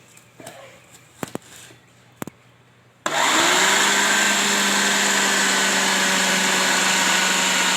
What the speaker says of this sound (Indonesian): saya blender untuk yang kedua ya, saya chopper